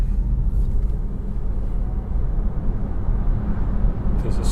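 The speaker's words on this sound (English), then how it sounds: "There's a slight whistle as you accelerate." A BMW i3 electric car pulls away and accelerates, heard from inside as a steady, loud low rumble of road and cabin noise; any faint whistle stays buried beneath it.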